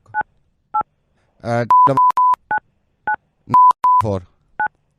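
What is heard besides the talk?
telephone keypad dialing tones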